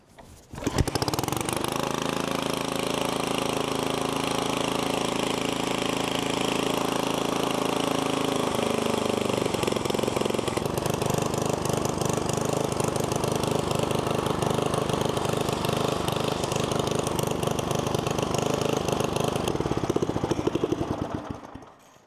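An old John Deere tractor engine starting up and running continuously at close range, loud and steady with a rough mower-like drone that shifts pitch partway through before cutting off at the end.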